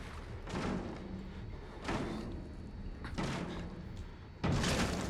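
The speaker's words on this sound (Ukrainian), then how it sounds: "І зараз він виламає там двері." Someone inside the horror game Outlast forces a door open with a series of heavy thuds and slams, four loud impacts spaced roughly a second apart, with quieter room noise between the blows.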